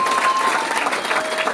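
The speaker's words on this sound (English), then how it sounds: "Give the Orpheum Theater a round of applause" A theater audience at a charity benefit show claps in a steady, full round of applause, with some crowd murmur mixed in.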